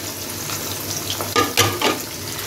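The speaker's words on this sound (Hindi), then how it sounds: "एक बड़ा कटा हुआ प्याज ऐड कर दूंगी।" A big chopped onion dropped into hot oil in a pot for Punjabi chicken pulao, giving a steady close sizzle with a couple of brief stirring or splashing bursts, and no one speaking.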